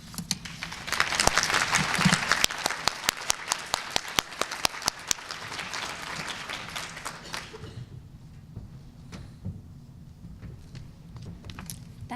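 A room full of people claps hard for 163 physicians at a Blue Cross Blue Shield primary care quality event. Dense, loud applause runs for about eight seconds, then thins to scattered, quieter claps.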